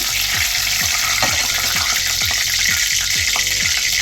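Cumin seeds and bay leaves sizzle in hot oil in a kadai for chickpea masala, a loud, close, continuous frying hiss. Quick regular stirring scrapes cut through it, and no one talks.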